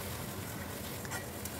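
A spice paste with tomato fries in a pan for a vegetarian green banana kofta curry, giving a soft continuous sizzle with a few faint stirring scrapes, fairly quiet and steady throughout.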